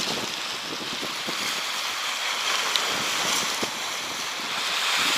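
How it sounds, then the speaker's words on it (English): Waves wash on the Hudson River during a December blizzard, a continuous broad rushing surge mixed with gusting wind noise on the microphone, with a few faint splashes and no talking. "Look at these waves."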